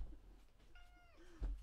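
A house cat meows once, a clear rising and falling call close by in a quiet indoor room, followed by a soft thump.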